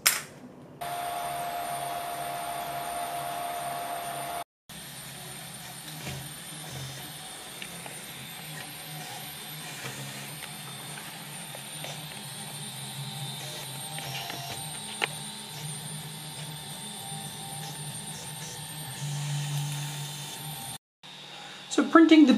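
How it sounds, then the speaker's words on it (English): A 3D printer printing a Pion 230 top plate in black ABS plastic, a quiet steady motor hum with faint whirring and shifting tones throughout, briefly cut by gaps, with little else over it. "let's try printing something a little more difficult for ABS"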